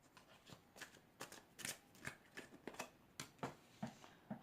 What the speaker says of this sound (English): now we're going to shuffle the angel deck